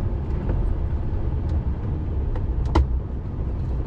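A truck reversing slowly down a narrow country lane, its engine a steady low rumble close by, with a few brief higher clicks and squeaks over the top and no talking.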